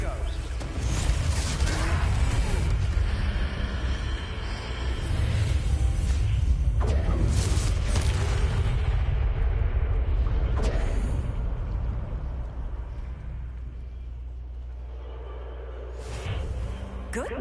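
A Confringo fire spell blasts in Hogwarts Legacy, a loud, dense rumbling explosion with whooshing bursts that rolls on for several seconds before tailing off, with game voices mixed in.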